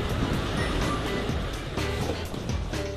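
Steady rushing surf and crashing waves against rocky shore of a remote island in South Jeolla, Korea, fill the whole stretch, a dense, continuous wash of water with a low rumble underneath.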